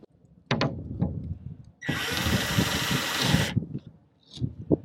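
A power drill runs at close range for about two seconds in a steady, loud whine while drilling through a partition door in a camper van conversion, with shorter tool bursts and clicks before and after.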